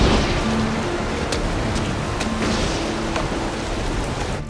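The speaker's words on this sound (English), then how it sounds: "It's raining outside." Steady rain pours outdoors during a storm as a dense, even hiss with a few sharper drop spatters and a faint low rumble beneath.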